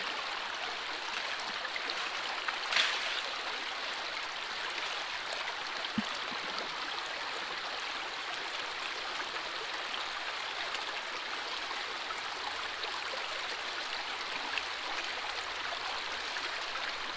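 Water runs steadily through a gold prospecting sluice on the Kern River, a continuous close rushing hiss with soft gurgles and a few faint clicks, heard alone for the whole stretch.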